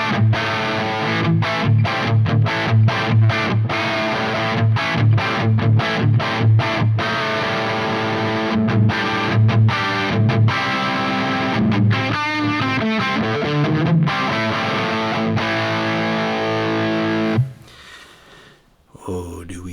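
An electric guitar plays through a Havok Elektronix FO-2 FET overdrive pedal with gain at noon, giving loud crunchy riffs of chopped chords and sustained notes that stop abruptly near the end.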